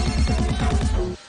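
A telephone rings with a fast repeating electronic trill, loud and close, pulsing steadily for about a second before cutting off abruptly, with no voices over it.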